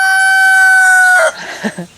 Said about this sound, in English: That's Fred. our rooster